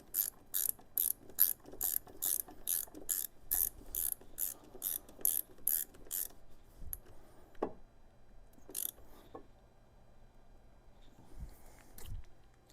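A ratchet wrench tightening the front wheel fastener on a Honda GL1500 Goldwing motorcycle, clicking in a steady run of sharp strokes for about six seconds before stopping, followed by a few scattered clicks and clanks.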